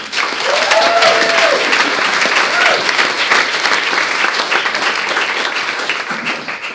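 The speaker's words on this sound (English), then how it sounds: "round of applause for all you all" Audience at a #BeHeardNotHarmed launch event gives a sustained round of applause, dense steady clapping from many hands filling the room for several seconds, with a brief cheer early on, then tapering slightly at the end.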